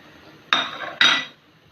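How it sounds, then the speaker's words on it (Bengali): Spoon scraping and knocking in a pan while plum pickle with panch phoron is stirred: two close, sharp metallic clanks about half a second apart, each ringing briefly before fading. "আরও কিছুক্ষণ নেড়ে চেড়ে শুকিয়ে নিতে হবে"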